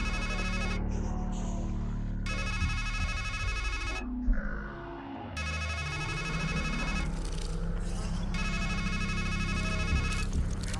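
A telephone rings in the video game Strangeland with a repeated electronic ringing tone. It comes in several long bursts separated by short pauses, loud and close, with low in-game ambience underneath.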